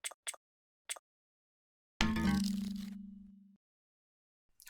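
A human voice imitating game cards being picked: a few short breathy bursts, then a longer rasping scrape that trails into a buzzing tone and fades, with another quick burst at the end.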